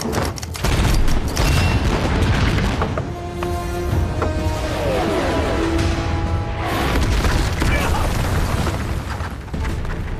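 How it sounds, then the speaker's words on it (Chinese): Rolling booms and bursts of heavy rocket artillery bombardment rumble continuously, with a rising whistling streak in the middle as explosions keep pounding in the background. "当大反击的火箭炮摧枯拉朽地轰炸在敌人的阵地上时"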